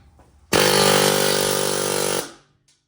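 A loud, close power tool, likely an impact gun, spins off a worn 36 mm strut nut on a 2014-2019 Jeep Cherokee front strut in one steady burst of about 1.7 seconds, then winds down.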